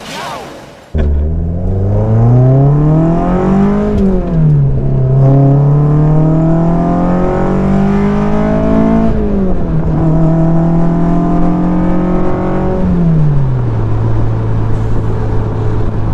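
An individual-throttle-body Mazda Miata engine revs loud and close, pitch climbing and falling through several throttle blips with a strong intake roar, then settling to a lower steady drone.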